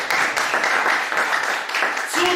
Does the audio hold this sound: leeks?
no